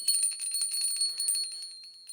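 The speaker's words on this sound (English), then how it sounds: "And then I've got this other bell" A small bell jingles rapidly and steadily, producing bright, ringing metallic overtones that shimmer and slowly fade near the end, heard close up and alone.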